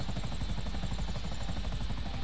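Helicopter hovering near a zeppelin in the video game GTA V, a steady rapid rotor chop over a dense engine whine, continuous and fairly close throughout.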